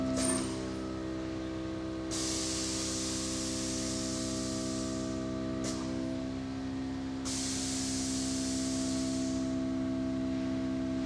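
Air suspension dump valve mounted under the gauge on a 2020 Chevy Silverado, with a heavy-duty air setup, releasing air in two loud, steady hissing bursts of about three seconds each, one after the other, over a constant engine hum.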